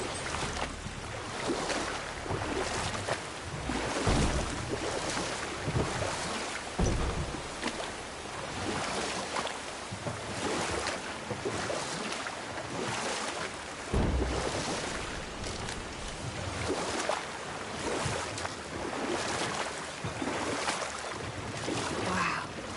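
A huge waterfall in the video game God of War roars as a dense, continuous wash of rushing water, loud and unbroken throughout, with no voices over it.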